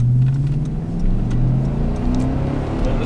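A 2005 Chevy Silverado 1500 truck with a 5.3 V8 engine revs steadily up close, with a loud continuous engine drone and rising pitch throughout.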